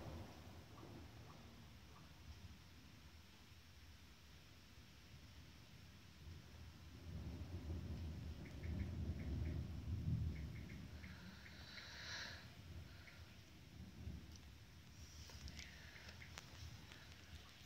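A thunderstorm over Burton on Trent, with a low, faint roll of distant thunder building and fading in the middle, soft patter of rain and light background noise throughout.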